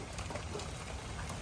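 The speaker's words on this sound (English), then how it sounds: "it is raining really well." Steady rain falls outdoors over a garden, a dense even hiss of drops with no pauses, alone and without voices.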